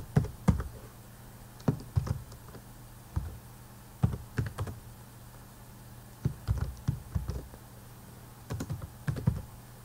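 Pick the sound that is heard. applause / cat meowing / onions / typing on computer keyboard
typing on computer keyboard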